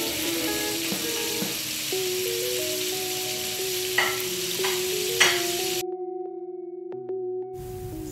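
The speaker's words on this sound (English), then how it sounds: "Let's fry those wings until they're nice and golden on each side." Chicken wings frying in hot oil, a continuous hissing sizzle with scattered pops and a thin tonal whine, close and steady, dropping away briefly before the frying noise returns.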